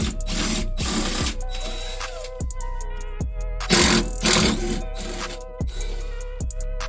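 Two 10mm bolts come off a Toyota MR2 Spyder rear diffuser with a power tool, heard as repeated short whirring bursts with gaps between them, close and fairly loud.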